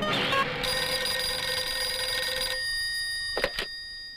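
A telephone bell rings loudly and close for about two and a half seconds, its bright tonal ring standing alone before cutting off, followed by a couple of short, fainter sounds.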